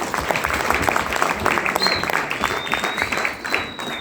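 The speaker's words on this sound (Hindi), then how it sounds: "जोरदार तालियां सीटियां होनी चाहिए" Dense, steady applause from a seated audience at a networking-industry business presentation, with a couple of thin whistles rising through the clapping, sustained at even loudness for the full stretch.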